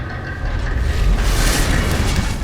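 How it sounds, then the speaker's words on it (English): A deep, rumbling roar with a heavy low-end surge that swells and sustains as a gate grinds open in Dark Souls 2. "That's the sound of the gate opening."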